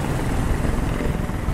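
Helicopter in the video game Detroit Become Human, a steady loud rotor and engine roar filling the whole moment without a break.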